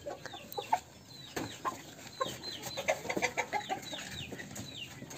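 Close rooster clucks and short squawks, scattered at first then bunching into a quick run of calls, with faint rustling between them, while the rooster is handled for semen collection.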